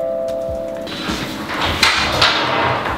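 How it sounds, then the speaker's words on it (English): A hammer cracks open a hollow chocolate heart, giving a few sharp knocks and crunching breaks close by after a brief tone, with no voices. "And I guess you like break it open with this hammer thing."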